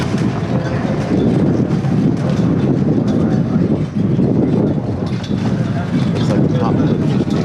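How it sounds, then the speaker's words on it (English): Strong wind buffets the microphone in a steady, loud, low roar that barely lets up for the whole stretch, outdoors at a MotoGP track. "Wow, you think it's windy out here much?"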